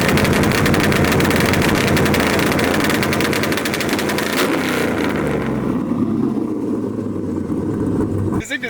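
An LS1-powered Silverado with a T56 manual fires rapid, machine-gun-like 2-step launch control pops from its exhaust, loud and close over a roaring engine, the crackle fading as the revs drop near the end.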